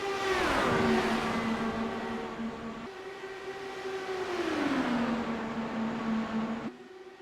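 IndyCar race cars at Kentucky pass close by: a loud high-pitched engine whine with a falling Doppler pitch, followed by a second car's rising then dropping drone, crowd-like roar underneath.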